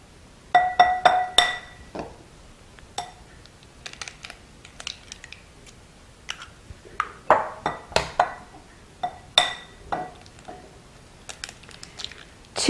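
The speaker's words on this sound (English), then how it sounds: "And I'm going to crack them open and then slightly beaten them." Three eggs are cracked against and into a glass bowl in a home kitchen, giving sharp clinks and taps in irregular bursts with short pauses between, close and fairly crisp.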